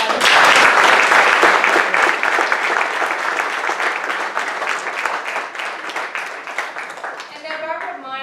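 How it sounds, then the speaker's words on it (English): Loud, dense applause from an audience honoring elected officials at a school event, steady clapping that fades slightly toward the end, with a few voices and a child audible in the crowd. "give elected leaders one round of applause"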